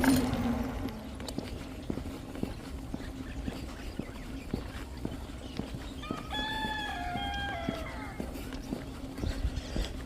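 A rooster crows once partway through, a clear rising and falling call against a steady low hum and scattered rural noise, heard outdoors during a solo bicycle pilgrimage circling the Narmada river in India.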